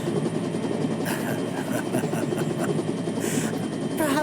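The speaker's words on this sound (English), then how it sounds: "We got Rufus in the next helicopter with Hojo." Helicopter rotor and engine drone in Final Fantasy VII Rebirth, a steady loud low thrum holding through the whole stretch with faint game voices beneath.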